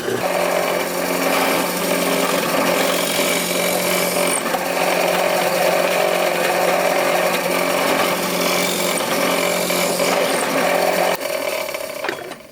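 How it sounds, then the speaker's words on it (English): A power drill with a 1/4-inch bit whines steadily and continuously for about eleven seconds drilling holes, close and loud, then cuts off near the end. "I'm going with a 1/4-inch drill bit to drill these holes here"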